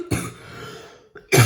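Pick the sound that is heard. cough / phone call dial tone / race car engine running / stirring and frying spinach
cough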